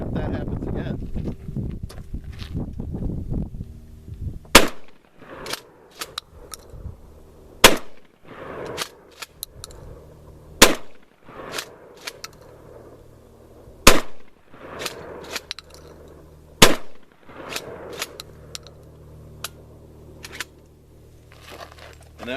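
An H&R Pardner Pump 12 gauge shotgun fires a series of loud, sharp blasts outdoors, spaced a few seconds apart, with wind noise and faint talk between shots.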